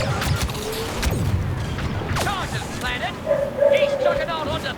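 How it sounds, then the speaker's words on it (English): A dog barks and yips in short bursts close by, with a few whimpers, over the background sound of a Star Wars clone gameplay session while a person talks. "I'll let the dog do the live commentary."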